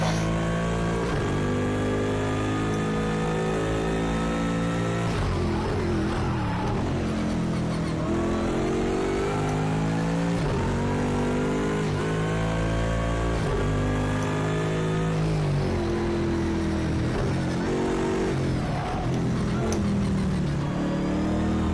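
A big, noisy Bentley GT3 race car in Project Cars 2 revs hard through repeated gear changes, the engine note climbing and dropping in loud, continuous waves with no talk over it.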